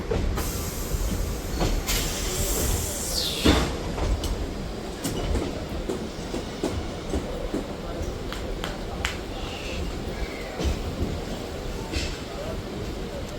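A MEMU passenger train runs between Vijayawada and Rajahmundry, its steady rumble and rattle carrying sharp clicks over rail joints and a brief wheel squeal, with voices faintly underneath.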